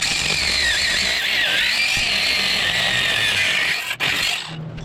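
A loud, steady grinding whine of a power tool cutting an edge off metal during a 2000-2006 Yukon/Tahoe pitman arm and ball joint replacement, running continuously for several seconds before briefly dipping and trailing off.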